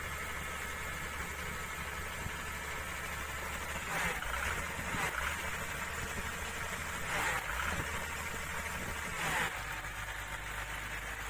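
A Komatsu PC200-6 excavator engine with black smoke and low power runs rough at idle, a steady low drone with a few louder surges of throttle in the middle.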